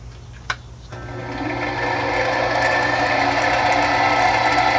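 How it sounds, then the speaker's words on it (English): A homemade boring head fitted with a makeshift cutter runs on a machine, with a sharp click before the motor spins up into a steady, loud whine that holds to the end. "Got the whole boring head assembled."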